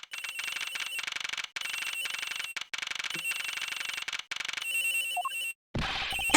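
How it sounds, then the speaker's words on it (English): Telephone ringing inside an airplane's flight attendant's room in an Ace Attorney–style game, a loud, steady electronic trill repeating in bursts with brief gaps, ending with a short different sound effect. "It sounds like the phone is up in the flight attendant's room."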